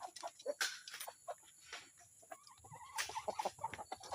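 Several free-range chickens on a farm cluck and chatter nearby in irregular bursts, some louder squawks standing out over a quiet background.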